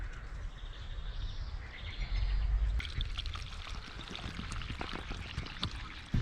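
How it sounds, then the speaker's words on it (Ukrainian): Water gurgles and splashes steadily as it is poured into a hydration bladder, with faint bird chirps in the background. "залів води в гідратор"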